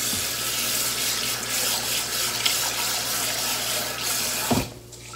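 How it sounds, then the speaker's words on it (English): Tap water running into a bowl of rice in a home kitchen, a steady close splashing stream that cuts off abruptly near the end, leaving near silence. "Place rice in a bowl and fill with water."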